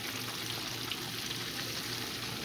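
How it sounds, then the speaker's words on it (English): Steady crackling sizzle of bass fish frying in hot oil, continuous and close, with no voices. "Look at that bass head frying"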